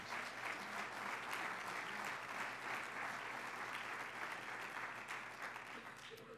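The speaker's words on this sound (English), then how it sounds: "I think that deserves a round of applause." Audience applause at a city's annual State of the City address in Gaithersburg, a steady, fairly faint wash of clapping that holds evenly throughout, with a low hum and some murmuring voices beneath it.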